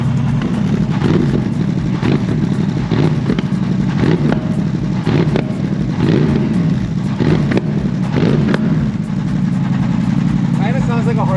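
A Mercedes SLS GT3 AMG race car, all carbon, idles with a deep, loud rumble and repeated sharp revs, while people talk over the engine noise.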